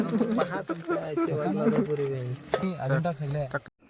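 Chicken curry with masala sizzles and fries in a pot over a gas flame outdoors, a steady crackle running beneath continuous nearby talking.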